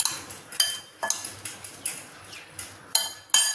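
Onion salad with mild green chillies and curry leaves being mixed with a spoon in a bowl, a series of sharp metallic clinks and scrapes at an irregular beat, close and clear, no talking.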